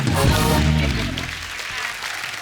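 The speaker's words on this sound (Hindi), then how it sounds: "एक बार पंगा की पूरी टीम के लिए जोरदार तालियां हो जाए।" Loud studio audience applause on a TV comedy show, a steady dense clapping that fills the whole stretch and tapers slightly, with a host's voice briefly over it at the start.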